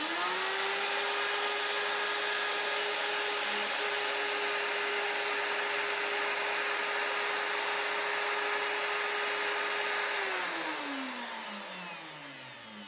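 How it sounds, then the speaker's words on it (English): A wood router motor runs loud and steady with a high whine for about ten seconds, then spins down as it is switched off, while the bit is lowered to mark a plastic plate while building a router table; no talking. "I'm going to turn on my router and drop the base slowly and let that spinning router bit make a little mark right where it needs to be."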